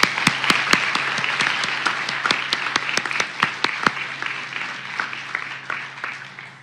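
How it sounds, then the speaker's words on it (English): A college audience applauds at a court community event, with a few loud nearby claps standing out from broader clapping that thins and fades toward the end. "I'd like to give her a round of applause."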